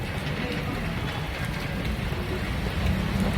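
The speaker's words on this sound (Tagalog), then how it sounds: "Umuulan!" Rain falls outdoors near a store in Marikina, a steady, even hiss that fills the whole stretch without pause, like a constant downpour heard close by.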